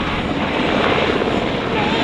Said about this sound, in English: Now the aircraft is pulling back and climbing